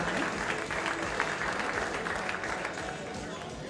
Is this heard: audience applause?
yes